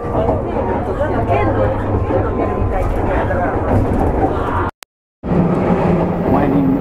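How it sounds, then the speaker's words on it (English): Crowded local train rolling toward Hiroshima through a valley, a steady rumbling hum of wheels and carriage noise filling the car, with a brief dropout near the end; voices murmur beneath the running noise. "I'm riding a local train for the next hour and a half on my way to Hiroshima."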